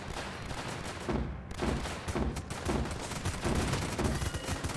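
Dense, continuous gunfire and explosions from a Northend tower defense war strategy game, a loud unbroken barrage of rapid shots throughout with no one talking.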